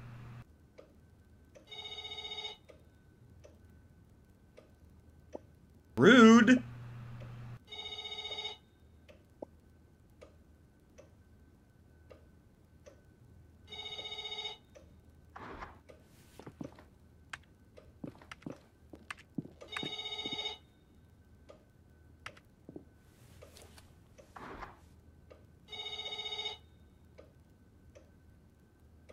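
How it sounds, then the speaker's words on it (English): A telephone rings in the video game else Heart.Break(), short repeated ring bursts spaced a few seconds apart across the clip, with a brief loud spoken interjection and scattered ticking and footstep clicks in between. "I'll get the phone."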